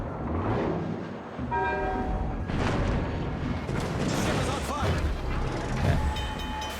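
Naval guns fire in World of Warships, heavy booms and rumbling blasts spread over several seconds amid continuous battle noise, with a voice talking over parts of it.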